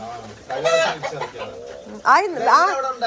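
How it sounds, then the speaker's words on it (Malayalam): Hens cluck and squawk nearby in short, bursting calls, with a voice talking underneath. "നാല് കോഴി പൊരുന്നിരിക്കണ്"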